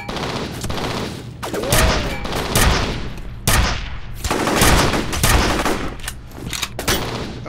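Dense bursts of enemy gunfire in the first-person shooter FEAR, with rapid automatic volleys and sharp shots repeating loudly throughout, broken by brief gaps.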